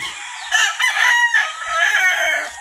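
A young fighting rooster crows loudly and close by, one sustained, strained call lasting a couple of seconds with no talking.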